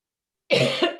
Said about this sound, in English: When I talk too long, I start coughing